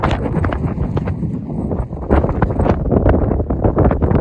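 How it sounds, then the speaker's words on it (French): Strong wind buffets the microphone at a hilltop lookout on São Nicolau, a loud, gusting roar that rises and falls without pause and with no talking. "il y a beaucoup de vent"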